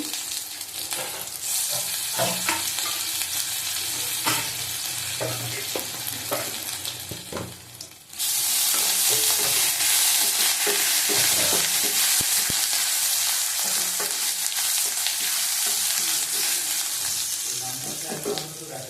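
Chopped ginger frying in a pan with dried chilli and spices: a moderate sizzle with stirring scrapes swells abruptly into a loud, sustained, hissing fry about halfway through.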